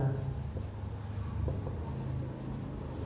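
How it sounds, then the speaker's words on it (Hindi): Pen strokes scratch on paper as an answer is written out by hand during a height and distance maths problem, faint scribbling under a quiet voice. "अब आंसर लिखेंगे"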